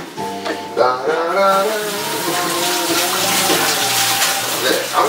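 Tap water runs steadily and loudly into a sink while raw chicken is washed by hand for a stew, with a talking voice over the continuous gush.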